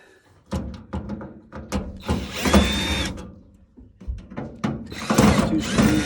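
A power drill backing screws out of a Rinnai direct vent wall heater, several short close whirring bursts separated by brief pauses and small clicks.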